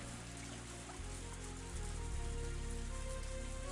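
Steady rain pours down in the dark in a Higurashi When They Cry game scene, a dense, even hiss of falling water under a low drone, with no voices.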